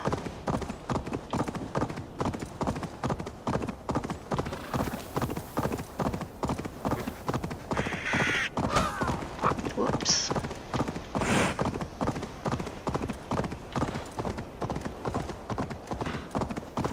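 Rapid, rhythmic hoofbeats clatter steadily throughout as a horse gallops in Assassin's Creed Valhalla, with a brief spoken exclamation and a few other effects layered in.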